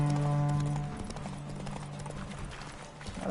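Horse hooves from The Witcher 3 clip-clop in a quick, even rhythm during a horse race, close and moderately loud, with no one speaking.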